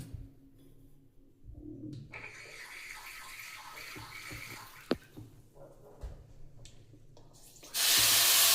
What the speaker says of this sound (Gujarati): એમાં મારા મમ્મીએ થોડુંક પાણી એડ કર્યું.